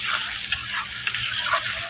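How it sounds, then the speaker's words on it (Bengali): Masala paste seasoned with salt and turmeric stir-fries in a pan, giving a continuous close sizzle broken by light scraping and stirring strokes. "লবণ দিয়ে দিলাম, স্বাদ মতো লবণ, হলুদ, মশলাটাকে ভালো করে কষিয়ে নেব।"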